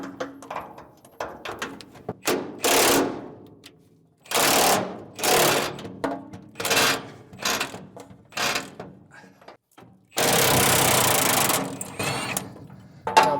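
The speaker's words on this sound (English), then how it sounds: "we're just going to try to impact it after we got it hot" Impact wrench hammering at a nut that has been heated with a torch, during flatbed removal on a cabover semi truck restoration; loud rattling bursts come in several separate runs of a few seconds each, close by, with no talk.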